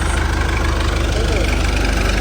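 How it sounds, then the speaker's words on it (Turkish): Tractor engine idling close by at night in a village, a loud steady low throb with regular knocking pulses, and a voice faintly present over it. "Yine ne yaptı ne etti traktöre bindi Zeyt Mirza."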